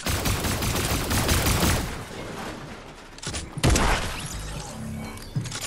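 Rapid submachine gun fire in Fortnite crackles in dense bursts for about two seconds, then trails into scattered shots, impacts and thuds, with a sharp loud blast near the middle.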